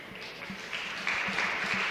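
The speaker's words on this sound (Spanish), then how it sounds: "La gente les aplaude, como ustedes escuchan" Applause from the crowd at a bolos match in the Spanish pairs championship final, a steady wash of clapping with individual claps standing out, swelling slightly louder toward the end, with no talk over it.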